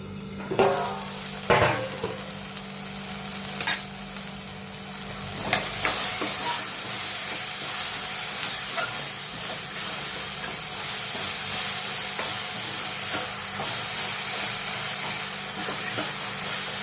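Bitter gourd and tomato cook in a covered pan with a steady, soft sizzle. A few sharp knocks of utensils or the lid sound near the start, then the quiet bubbling carries on alone.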